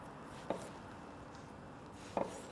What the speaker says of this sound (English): I'm just gonna cut these in half and they'll go on the grill halved.